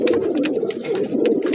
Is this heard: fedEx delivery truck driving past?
no